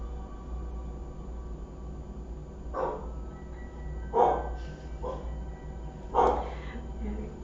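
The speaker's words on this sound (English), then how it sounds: "I never know what he's barking at." A dog barks three separate times at spaced intervals, moderately loud over a steady low hum.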